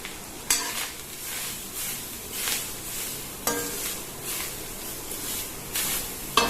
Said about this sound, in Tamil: அடுத்தது தேங்காய் துருவலையும் சேர்த்துடலாம். சேர்த்து ஒரு 20 நிமிஷத்துக்கு நல்லா வதக்கணும்.